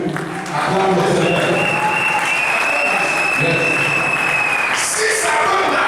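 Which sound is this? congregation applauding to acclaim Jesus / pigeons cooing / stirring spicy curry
congregation applauding to acclaim Jesus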